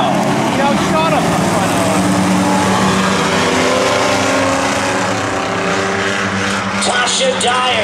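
Race cars in a NASCAR heat at Beech Ridge Motor Speedway roar together at full throttle, a loud continuous engine drone with shifting whines as the pack passes, while an announcer talks over it.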